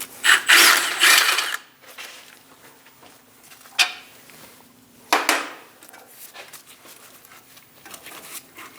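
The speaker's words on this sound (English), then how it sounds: "Break both of them free before you remove them. Remove both caliper bracket bolts." Ratchet loosening caliper bracket bolts on a 2003-2025 Chevrolet Express 2500, a close burst of rapid clicking ratchet strokes followed by scattered single clicks and metallic clunks in a quiet garage.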